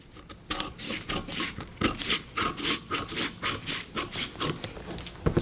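Scissors cut fabric pattern pieces for a sailor-collar jacket, producing a rapid series of close, rasping snips and scraping strokes in an uneven rhythm.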